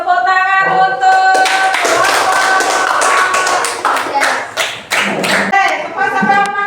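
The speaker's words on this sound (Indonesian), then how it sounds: "tepuk tangan untuk" Hands clapping in a classroom lesson, a burst of group applause with sharp irregular claps, framed by voices and sung or drawn-out tones before and after.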